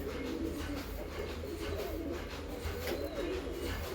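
Several pigeons being freed from wing ties coo in soft, repeated low rolling calls, heard steadily over a constant low background hum.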